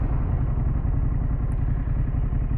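A Harley-Davidson Pan America motorcycle fitted with a Vance exhaust rumbles loudly and close, with a deep, steady, pulsing throb throughout and no voices.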